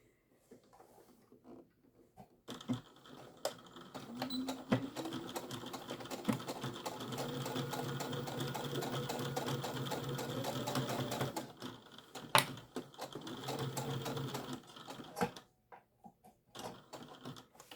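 A sewing machine runs in sustained bursts while stitching a fabric tablet case, its rapid mechanical needle chatter steady and close, with pauses between runs and no voices.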